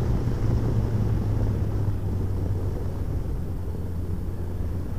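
A motorcycle ride on a twisting road heard through a Shark Evo One 2 helmet, with a constant loud rush of wind over a low engine drone throughout.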